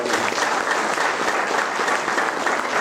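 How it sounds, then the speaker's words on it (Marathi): A seated audience at a Marathi religious discourse gathering breaks into steady, dense applause, many hands clapping loudly and evenly throughout without any pause. "एकदा टाळी त्यांच्या करता"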